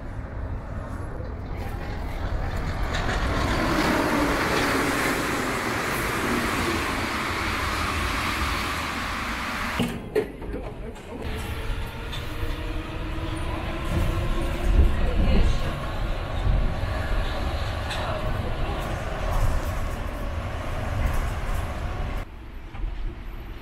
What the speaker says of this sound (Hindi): फ़िलहाल के लिए मेरी मेट्रो आ चुकी है